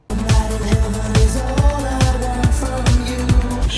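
Electronic track from a record, with a steady thumping kick-drum beat under a busy synth mix, playing loud throughout.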